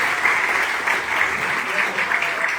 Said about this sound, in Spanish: Le quiero dar también un fuerte aplauso a Francisco